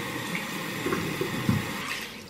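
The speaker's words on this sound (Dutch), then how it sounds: "dan zet ik de warme kraan aan" A hot water tap runs steadily into a bathroom sink while hands are washed, a close continuous splashing flow with small splashes over it.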